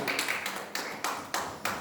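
Church congregation clapping during a worship service, several short bursts of applause about every third of a second, moderately loud and crisp with no talking over them.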